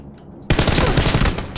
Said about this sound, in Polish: Tam słychać strzały jakieś na tych hangarach.